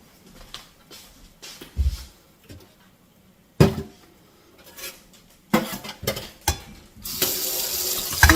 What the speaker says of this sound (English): Give my sink a good little scrub here now.